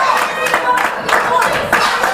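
Wrestling crowd at a UKWW No Man's Land 2018 show cheering and clapping for Brooklyn, a steady, loud wash of applause with rhythmic claps and a commentator talking over it.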